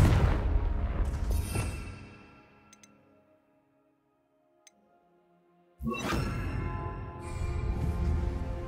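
Confringo blasting spells explode in the video game Hogwarts Legacy, loud booming bursts with rumbling tails, one at the start and another heavy blast near the end, separated by a near-silent gap with faint ticks.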